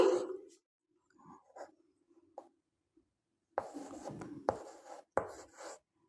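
Numbers being written by hand during an elementary math lesson, heard as a few soft, scratchy pen strokes in short bursts against quiet, with faint scratching between them and no talk.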